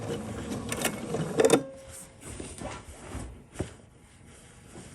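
A sewing machine stitching quilt binding runs in short bursts of mechanical whirring and clatter, with brief pauses between bursts. The sound is fairly close but quiet, with no talk.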